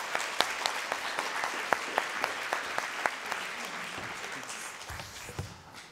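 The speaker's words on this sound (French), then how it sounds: "qu'on peut applaudir vraiment très fort" Applause from the audience at an award ceremony at the Maison de la Culture du Japon, with several sharp, distinct claps standing out over steady clapping that gradually thins out and fades.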